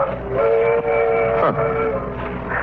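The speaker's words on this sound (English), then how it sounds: "the sound of a distant train whistle punctuating the evening stillness" A long, steady train whistle sounds from afar, holding its tone and then dipping briefly before carrying on over a low rumble.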